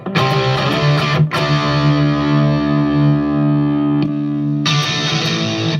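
Heavily distorted electric guitar played through Headrush amp models, loud sustained power chords with a couple of sharp chugged attacks and brief stops, ringing dense and saturated with no talk.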